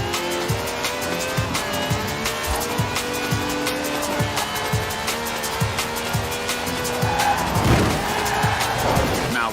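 Car drifting in the racing video game Forza Horizon 4, with a loud engine roar and repeated, sustained tire squeals through the slide, plus a burst of harsher noise near the end.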